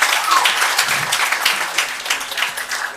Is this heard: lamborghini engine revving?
no